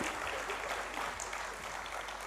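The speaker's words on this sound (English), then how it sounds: "So let's have a huge round of applause for GAV school children." Dense, steady applause from a large audience at a conference inaugural ceremony, honoring a school children's performance, heard as an even wash of clapping throughout without a clear start or finish.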